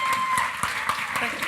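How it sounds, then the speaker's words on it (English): Audience applause greets a guest being invited onto the stage at a women's leadership conference plenary, steady broadband clapping with a few sharper claps, fairly close and continuous throughout, with faint voices underneath. "Give him a round of applause, everyone."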